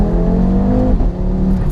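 Turbocharged Audi RS3 8P tuned to 500 bhp accelerating hard, a loud steady engine roar with rising harmonic tones heard from inside the car, with a brief dip near the middle.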